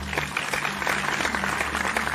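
A crowd at a church gathering applauds, a steady wash of many hands clapping at moderate volume over a low hum, with no distinct voices.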